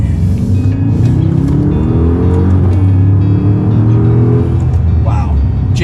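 A Maserati Ghibli Trofeo with a Ferrari-built engine accelerates in manual shifting, a loud, steady low engine rumble heard from inside the cabin, rising through a gear, with a voice briefly at the start.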